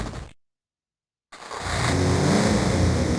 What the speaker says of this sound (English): inserts the key and revs the engine. The sound of the exhaust resonates in the small space.